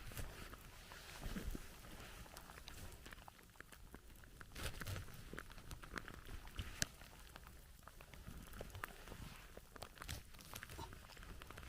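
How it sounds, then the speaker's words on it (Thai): Rain falls in a forest where penny bun mushrooms are being picked, a steady, faint patter of drops with scattered louder taps that runs throughout with no voices. "ฝนก็ตก"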